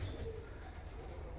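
Ornamental long-face pigeons coo in a loft with birds sitting on eggs, a low, steady throaty murmur close by with no talk.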